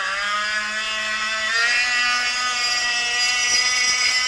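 A Milwaukee M12 FUEL 1/4-inch straight die grinder spinning a burr clogged with aluminum, giving a steady high-pitched whir with a slight rise in pitch partway through, close and continuous, no talking.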